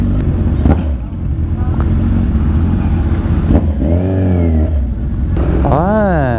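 Cars rumble and rev close by on a busy market street in the Philippines, engines rising and falling as vehicles pass, with a horn-like tone near the end.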